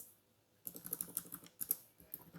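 Quick keyboard typing starts after a brief quiet moment, giving a fast, even run of soft, close key clicks with a few sharper taps, and there is no talk.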